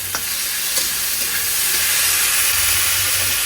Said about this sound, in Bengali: এরপর একটুখানি পেঁয়াজ দিয়ে দিচ্ছি আর দিয়ে দিচ্ছি এক চামচ আদা রসুন